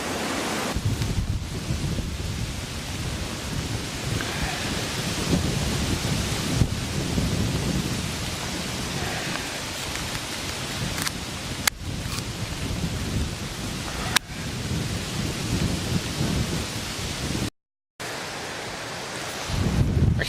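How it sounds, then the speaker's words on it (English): Heavy, horribly hard rain pours down outdoors in a steady, dense wash of noise, broken by a few sharp knocks and one brief dropout. "I'll see if I can get a close-up on this rain coming down for you"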